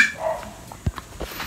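A pet dog barks sharply a couple of times in a home kitchen, short loud yelps spaced apart against a quiet room.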